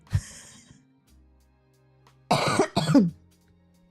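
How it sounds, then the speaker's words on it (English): A short cough near the start, then after a quiet pause, two louder harsh coughs close together. "I'm sorry about the coughing"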